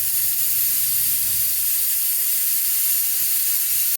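A pressure cooker on a home kitchen stove, cooking vegetables for pav bhaji, lets out a loud, continuous steam hiss for about four seconds before it cuts off abruptly.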